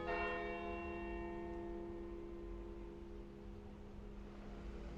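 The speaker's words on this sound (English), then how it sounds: "as the bells start going off" Church bells ring out in an alleyway in Zurich, Switzerland, with a loud, sustained, layered peal of overlapping tones that continues steadily throughout, with no voices.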